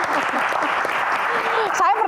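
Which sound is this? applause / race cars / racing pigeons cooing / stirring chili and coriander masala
applause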